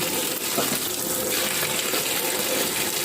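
Tap water runs while cut vegetables are rinsed in a home kitchen, a steady close gush with small splashes and knocks, no voices.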